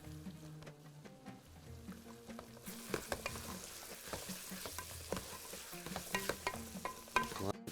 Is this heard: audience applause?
no